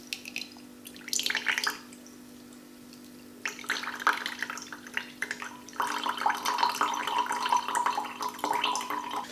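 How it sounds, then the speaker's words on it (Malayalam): Lemon ginger juice poured and strained from one glass into another, bursts of trickling, splashing liquid close by separated by short pauses, then a longer steady pour. "ഈ ജ്യൂസ് നമുക്ക് മറ്റൊരു ഗ്ലാസ്സിലേക്ക് മാറ്റാം."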